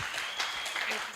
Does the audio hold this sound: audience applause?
yes